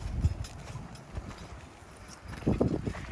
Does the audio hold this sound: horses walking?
yes